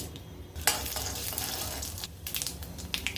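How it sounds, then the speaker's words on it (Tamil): Mustard seeds and urad dal sizzle in hot oil in a kadai for a dried peas sundal, a close, steady frying hiss broken by sharp crackles and pops, with no voices. "எண்ணெய் சூடாயிடுச்சு இப்போ இதில் கடுகு உளுந்தம்பருப்பு"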